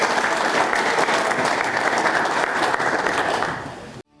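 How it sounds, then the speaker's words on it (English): Loud, dense applause from a banquet crowd at an all-star football banquet, sustained clapping that fades out near the end and then cuts off. "Let's give a quick round of applause to our offensive recipients tonight."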